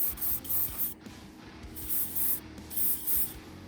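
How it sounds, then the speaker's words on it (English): Light coats of Windex-blue spray paint hiss onto a Hot Wheels custom Firebird body in several short, evenly spaced bursts, with brief pauses between them and no talking. "Now we're going to spray the body."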